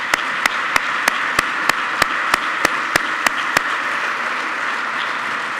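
Applause breaks out for an award winner at a ceremony marking the 30th anniversary of the Erasmus programme, a steady wash of clapping from a seated audience with sharp regular accents, loud and close for about four seconds before easing off.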